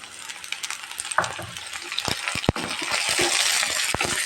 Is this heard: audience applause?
no